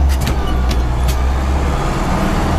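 An MB trac tractor's diesel engine, a loud low rumble that revs steadily near the listener, with faint clicks over the top.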